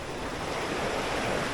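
Clean water flowing steadily through a Dutch-era irrigation canal, a continuous broadband rush with no breaks, fairly close and alone without any voices.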